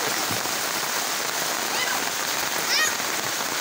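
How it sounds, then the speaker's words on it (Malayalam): Heavy rain pours near a check dam, a steady broadband hiss of drops with a few brief chirps on top, continuous and fairly close. "ഭയങ്കര മഴയായി."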